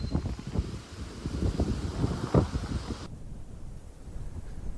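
Wind gusts buffet a microphone outdoors on an exposed hillside at Ventnor, Isle of Wight, a steady rough rumble that drops to a calmer hiss partway through; no speech.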